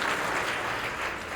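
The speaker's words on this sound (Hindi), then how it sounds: "क्या ताली बजाएंगे लोग?" A short stretch of dense audience clapping at a political party meeting, steady and fairly loud with no voices over it.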